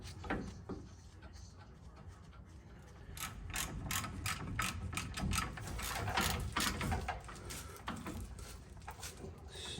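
A ratchet tightens the rear brake backing plate bolts on a Ford F-250, a close run of rapid metallic clicks in uneven bursts that quicken and grow denser as the bolts are snugged down.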